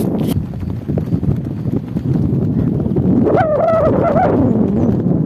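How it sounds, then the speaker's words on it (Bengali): Strong sea wind buffets the microphone with a constant low roar on an open beach at low tide, joined briefly midway by a faint wavering animal or bird call. "এটা সমুদ্র এরিয়া বলে খুব হাওয়া দিচ্ছে"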